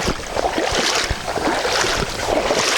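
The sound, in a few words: wind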